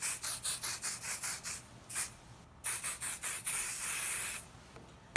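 Bursts of temporary spray adhesive (505) hiss from an aerosol can onto fabric and stabilizer during a sewing demo, several short puffs in quick succession followed by two longer sustained sprays, close by with no talking.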